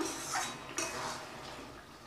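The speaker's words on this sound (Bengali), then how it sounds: "ঢাকা খুলে দেখে নেব আলু সিদ্ধ হয়েছে কিনা" A metal lid is lifted off a cooking pot of okra and potatoes in mustard sauce, with a single clanking scrape near the start and a brief clink at the middle, then quiet kitchen hiss.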